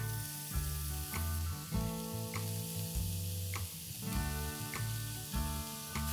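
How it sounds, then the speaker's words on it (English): Grated carrot sizzles in hot ghee in a pan as Gajar barfi is cooked, a steady close crackle and hiss broken by periodic stirring scrapes over a low hum. "Once the ghee is nice and hot, into that I'm going to add in 500 grams of grated carrot."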